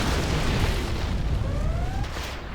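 A nuke detonates in a real-time strategy video game match, a dense low rumbling roar that fills the short stretch and trails off with a faint rising whine.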